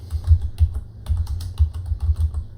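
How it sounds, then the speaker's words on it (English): Rapid, even keystrokes on a computer keyboard entering a Windows 10 Cortana search, close and crisp, with no talking. "You can type things into Cortana to look for"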